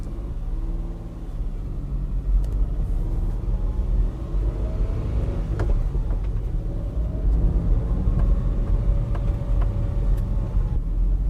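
A 2009 Daihatsu Hijet 4WD kei truck with a manual clutch pulling away in low first gear, a steady deep engine rumble and drone heard from the cab, continuous and moderately loud with road noise and no talking.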